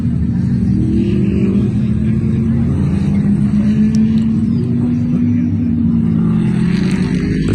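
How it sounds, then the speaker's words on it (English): GT3 race cars, including an Audi R8 and a Ford GT, rolling off for the pace lap at the Ryula circuit in a racing game: a loud, steady engine drone with a slowly rising and falling pitch. "The cars roll off to begin their pace lap."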